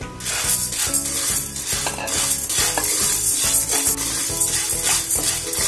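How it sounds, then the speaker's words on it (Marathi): Sago pearls dry-roasting in a pan for an upvas recipe, stirred in a steady repeated rhythm with a dense, continuous rustling scrape close by, no talking. "आता आपण साबुदाणा भाजून घेऊया।"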